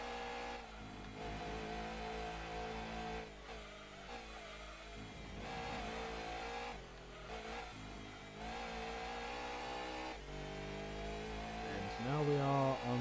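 Toyota Supra race car engine in Gran Turismo 2 on the final lap of a race in Rome, a steady high-revving drone with shifting tones and a louder surge near the end, running continuously under background music.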